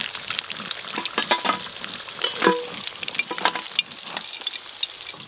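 Katla fish fat fries in oil in a pan with a close, crackling sizzle and bursts of spattering, along with stirring scrapes and no talk.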